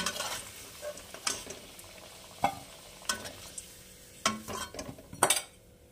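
Vegetables and potatoes lightly frying in a pan, with soft sizzling broken up by intermittent scrapes and clinks of a spatula stirring against the pan, close by and fairly quiet, no one talking.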